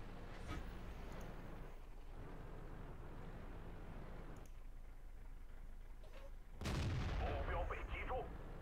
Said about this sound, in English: Another really decent shot there on the IS-6 in the side of his turret.